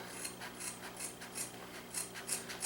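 Repeated rasping snips of scissors cutting through leather for a strop, about six strokes in a steady rhythm, close up and fairly quiet.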